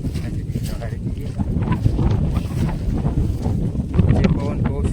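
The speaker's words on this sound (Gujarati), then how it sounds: "જે પવન બહુ છે દોસ્તો" Strong wind buffets the microphone outdoors in hot summer sun, a continuous loud low rumble with gusty swells throughout, with faint voices mixed underneath.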